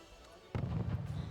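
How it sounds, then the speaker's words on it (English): Artillery strike explosion in the video game Wargame Red Dragon, a sudden heavy boom with rumbling low crackle. "He kills the CV with, I believe, just an artillery strike."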